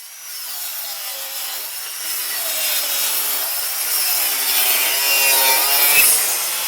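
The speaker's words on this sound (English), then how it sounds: "I'm going to take this 1x3, this is a filler strip, and I'm going to cut an inch off of it" A handsaw cuts an inch off a wooden 1x3 filler strip, its rasping strokes close and steady and growing slightly louder, with a sharp knock near the end.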